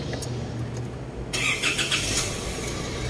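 An Isuzu MUX engine cranks and catches partway through, then settles into a close, steady idle with a slight rev.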